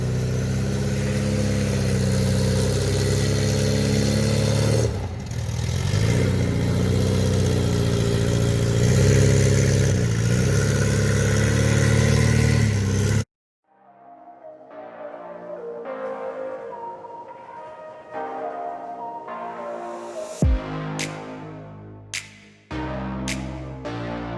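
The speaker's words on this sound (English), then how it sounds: "I love hearing the sound of that Volkswagen engine." Volkswagen engine running at an outdoor campsite during cookout meal preparation, a loud, steady mid-pitched drone close by for about thirteen seconds, then cut off and followed by quieter mixed sounds with some sharp knocks.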